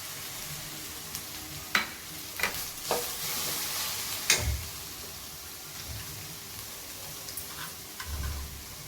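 Capsicum sautés in a pan for bread Manchurian, a low steady sizzle broken by scattered sharp clicks and taps of a spatula against the pan, with no talking.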